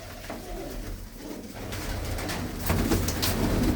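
Blue-footed pigeons coo in low, soft, rolling calls, heard close and continuous over a busy, noisy background without talk.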